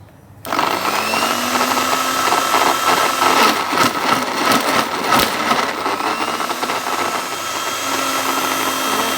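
A blender running at speed level one to blend fruit, with ice in the jar, starts abruptly and holds a loud, steady motor whir with rattling, churning contents throughout.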